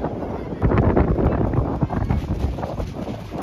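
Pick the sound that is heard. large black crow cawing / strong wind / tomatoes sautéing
strong wind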